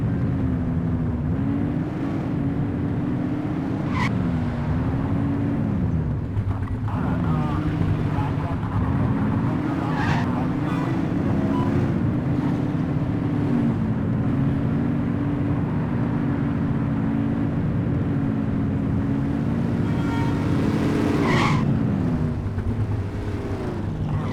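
Cars speeding along in the police video game The Precinct give off a steady engine drone that keeps rising and falling in pitch, with wind-like noise over the top throughout.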